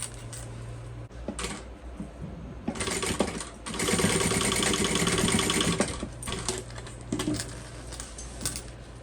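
A sewing machine topstitches the layers of a fold-over crossbody bag in several close bursts of rapid mechanical stitching, with short pauses and a low steady hum between runs.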